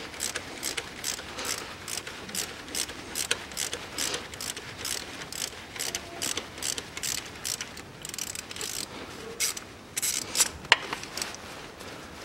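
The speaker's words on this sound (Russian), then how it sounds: "Ну все, по периметру крышку откручиваю." Cover bolts on a Land Rover Discovery 3 engine are undone with a ratchet, a rapid run of close, crisp pawl clicks in repeated bursts, with no talking.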